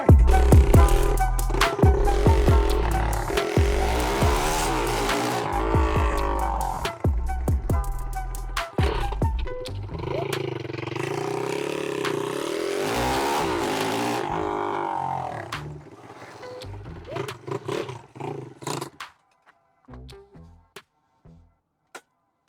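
A 20 HP Honda Chaly motorcycle engine running up close, a loud steady drone that climbs and falls in pitch as it revs, then dies away into a few faint clicks and near silence.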